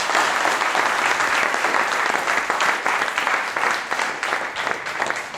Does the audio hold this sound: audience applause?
yes